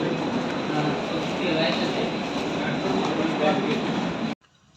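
A train stands at platform 9 of a railway station on a Bangalore-to-Goa journey, giving off a loud, steady, broad rumble and hiss that cuts off abruptly near the end.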